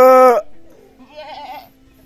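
A goat bleats once, loud and close, a harmonic call lasting under half a second, followed by a fainter wavering bleat a moment later.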